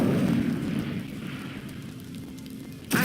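Incendio fire spell cast in Hogwarts Legacy, a roaring, crackling burst of flame that fades steadily over a few seconds, followed by a sharp new whoosh at the very end.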